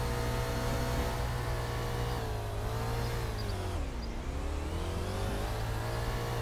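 Car engine driving steadily in a Roblox game on a tycoon map, a continuous hum with a pitch dip and rise midway as the vehicle crashes through and breaks objects, loud and alone without talk.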